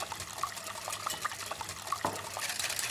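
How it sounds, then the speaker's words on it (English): Organic whole milk whisked into batter in a bowl for a Christmas recipe, heard as a steady wet swishing with small metallic clinks of the whisk against the bowl, close and fairly loud, with no talking. "whisk in 150 millilitres of milk. This is whole milk, organic, and just add that in nice and slow. Give it a really good whisking."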